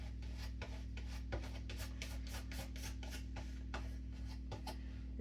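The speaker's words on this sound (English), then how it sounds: "Nice strop, fairly high, 30-40 degrees, light pressure." A gyuto chef's knife is stropped at a fairly high 30-40 degree angle with light pressure, giving about a dozen soft, regular rasping strokes over a constant low hum.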